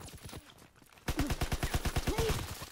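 Rapid automatic gunfire in Call of Duty WWII online multiplayer, with a few scattered shots and then a loud, steady burst of about fifteen evenly spaced rounds up close.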